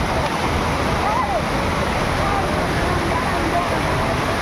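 Outflow water rushes steadily into a canal near a fishing spot after rain, a constant broadband roar of churning water with no breaks, loud and close throughout.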